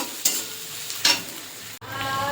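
Onions fry in a pan for a chicken gizzard curry, a soft steady sizzle broken by a few brief stirring scrapes close by.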